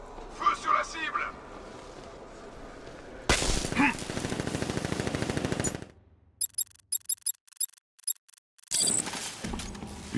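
Gunfire in the video game Batman Arkham Knight, a dense burst of rapid automatic shots that cuts off abruptly, followed by sparse clicking bursts, with a voice speaking in between.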